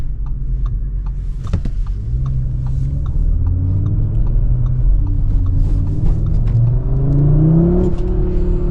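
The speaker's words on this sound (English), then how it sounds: "Yeah, those are aggressive downshifts, if I've ever heard them." A 2026 Audi RS3 engine revving with aggressive downshifts, rising and falling mid-pitched engine tones with throttle blips and a steady rumble from inside the car, loud and unaccompanied by talk.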